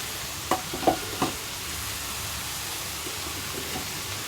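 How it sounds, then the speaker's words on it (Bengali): Spices and ground garlic-ginger paste frying in a pan, with a few sharp stirring scrapes early on followed by a quieter steady sizzle. "এটাকেও ভালো করে ভেজে নিতে হবে"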